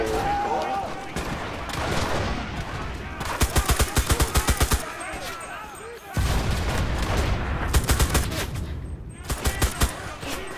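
An automatic gun fires in the World War II shooter Enlisted, with rapid, sharp bursts of shots coming in several volleys, loud and close, with other battle noise between them.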